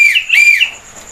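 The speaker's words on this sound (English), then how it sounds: "If you hear me whistle," A tour guide's whistle blows sharply and loudly in a few quick warbling chirps, heard alone without talk, with a faint tail after the last blast.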